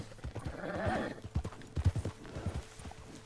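Rhythmic hoof clip-clops of a horse trotting in the video game Red Dead Redemption 2, steady and close, with a brief whinny-like tone early on and no talking.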